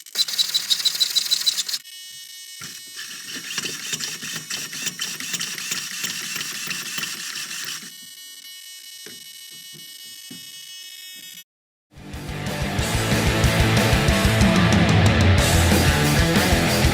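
A nitro engine on an HPI Savage 25 RC truck fires up, with a high buzzing whine first, then a rough starting sputter that settles into a loud, continuous, raspy running note close by.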